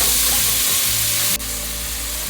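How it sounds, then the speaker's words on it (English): Ground beef and chopped onion fry in a pan with a loud, dense, continuous sizzle heard up close, with no talking. "I'll just fry all this up until the ground beef is cooked through"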